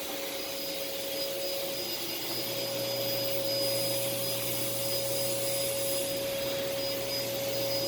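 A Sanyo SC30 straight-suction vacuum cleaner runs steadily on living-room carpet, a constant airy roar topped by a thin, high motor whine, close and even throughout with no talk.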